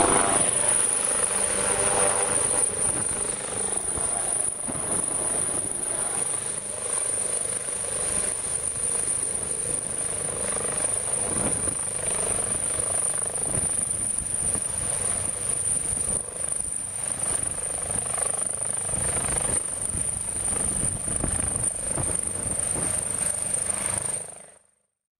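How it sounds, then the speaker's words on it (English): A medical evacuation helicopter landing by the Chapleau River thumps and whines steadily nearby, rotor chop continuous with a high-pitched turbine whine on top, before cutting off abruptly at the end. "So the helicopter lands, and the crew is getting set up."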